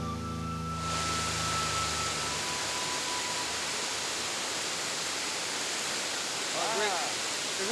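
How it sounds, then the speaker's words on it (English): A magnificent waterfall in Belize roars as a loud, continuous rushing wash of water that swells in after a quiet start, with a voice briefly heard over it near the end. "There's many places like this magnificent waterfall that are undiscovered by most people."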